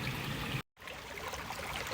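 Stream water runs and splashes down into a lower pool, a steady close rush of trickling and bubbling that fills the whole clip, broken only by a brief cut to silence near the middle.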